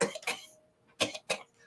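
A voice imitates a gentle cough from a wilted, dying plant in a tabletop fantasy game, with two soft cough bursts at the start followed by two more after a pause, close and quiet.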